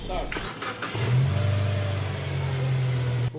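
A Subaru Legacy engine, just worked on at the intercooler bracket, cranks and catches, then revs up to a steady, loud mid-pitched drone that holds nearby with a faint high whine.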